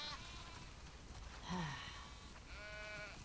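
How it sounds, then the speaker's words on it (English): Sheep bleat faintly in The Last of Us Part II, one wavering cry midway and another near the end, over a steady hiss of game ambience. "We definitely have way too many sheep."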